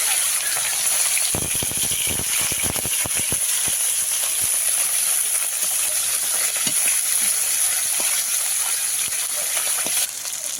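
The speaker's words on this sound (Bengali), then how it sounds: "বেলা মাছটা তো ভাজা হচ্ছে" Bele fish frying in hot oil in a wok gives a steady, close sizzling hiss, scattered with small crackles and pops, running unbroken with no talking.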